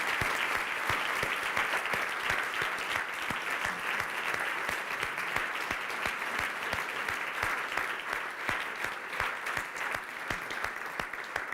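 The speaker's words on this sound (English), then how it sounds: "can we give these guys another big round of applause?" An audience at a purpose-themed talk event gives a long, steady round of clapping that stays dense and even from start to finish, with no voices over it.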